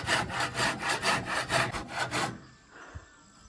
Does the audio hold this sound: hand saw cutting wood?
yes